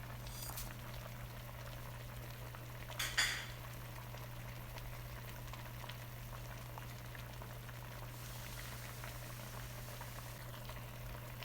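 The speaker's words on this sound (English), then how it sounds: "You're going to let this boil about 5 minutes uncovered." Chicken adobo boiling uncovered in a pot, a steady low bubbling simmer under a constant hum, with a couple of brief clinks partway through.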